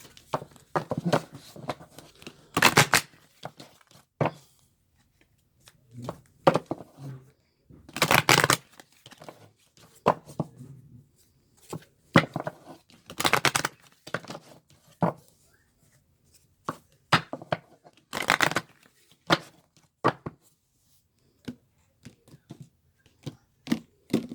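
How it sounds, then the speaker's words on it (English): Sharp bursts of riffling cards, several quick shuffles separated by pauses, close and crisp with softer tapping and handling sounds between them. "Let me shuffle the other deck"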